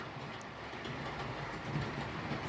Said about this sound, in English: I now have trains running.